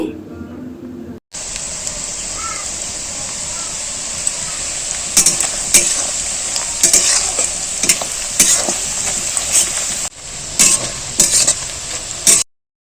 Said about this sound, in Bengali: সব উপকরণ ভালো করে ভেজে নিচ্ছি